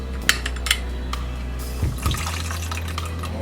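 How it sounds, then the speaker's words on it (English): Half a large lemon is squeezed by hand into a bowl, the juice dribbling in with soft wet splashes and a faint clink over a low, steady kitchen hum. "I'm gonna squeeze some lemon juice in here."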